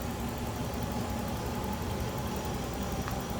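A 1986 Nissan 300ZX with a 3-liter V6 running smoothly, a steady even hum with broadband noise and no change in pace, heard up close with no talk.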